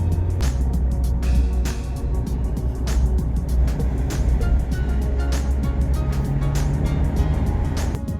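Car engine droning steadily on a high mountain road toward Kargil in Ladakh, a constant low rumble with road noise and occasional rattles, close and continuous throughout.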